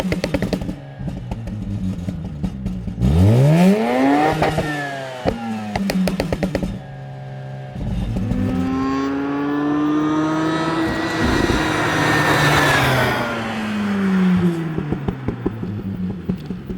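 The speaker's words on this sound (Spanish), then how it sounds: "Tenemos un escape Nvidia. Suena muy chulo" A Mazda RX-8 revs up sharply several times through a loud aftermarket exhaust, rising and falling in pitch with a raspy, rumbling tone, close by.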